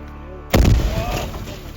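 After a moment of quiet, a Ukrainian artillery cannon on the front near Bakhmut, Donetsk region, fires one sudden, heavy blast close by, and a deep rumble rolls away after it.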